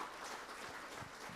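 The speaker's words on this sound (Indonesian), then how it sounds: "Ayo sama-sama kita beri tepuk tangan kepada Tuhan" A church congregation claps together in a faint, distant, even wash of applause that runs without a break, with no clear voices over it.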